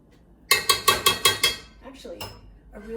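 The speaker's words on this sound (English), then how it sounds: "I used an old-fashioned potato masher, and we just mix it up" An old-fashioned potato masher works through steamed butternut squash in a pot, giving six quick, evenly spaced metallic clanks up close, then a few softer, scattered knocks.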